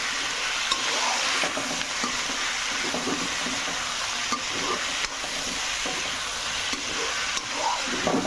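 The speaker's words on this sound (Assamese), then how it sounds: "পিঁয়াজটো অকণমান ৰেড হোৱাৰ পিছত দি দিম বিলাহী আৰু আম" Onion, tomato and mango sizzle steadily in a hot kadai, a constant crackling fry with occasional soft scrapes and knocks of a spoon stirring the mixture, close and continuous with no talking.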